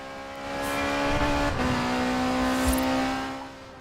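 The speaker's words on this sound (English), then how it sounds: "it pretty much sounds like the rally car and the rally cars in this game" A rally car engine in Forza Horizon 4 drones steadily at a high pitch, rising slightly in revs, loud and close with no talking.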